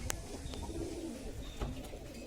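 A pigeon perched at the top of a tree coos softly in a short, steady run against a low background hum, with no one talking.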